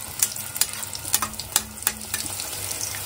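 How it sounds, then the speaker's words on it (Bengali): Green pea kachori deep fry in a pan of hot oil, a close, continuous bubbling sizzle punctuated by sharp, irregular crackles and pops, with no talking. "আলুর দম হয়ে গেছে, জাস্ট কচুরিটা এখন ভাজা চলছে।"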